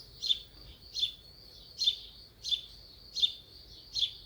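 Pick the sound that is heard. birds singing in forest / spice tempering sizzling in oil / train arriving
birds singing in forest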